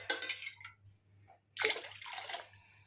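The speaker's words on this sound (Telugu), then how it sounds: "ఇలా వాటర్ పోసేసి" Water splashes and pours into a pan for semolina halwa in two bursts, the second louder and longer, with a steady low hum underneath.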